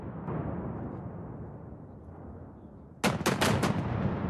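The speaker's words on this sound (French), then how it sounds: "des coups de canon retentissent au dehors du Kremlin" Ceremonial cannon shots fired outside the Kremlin break in suddenly after a steady low rumble, four or five loud booming reports in quick succession heard outdoors at a distance, with no speech over them.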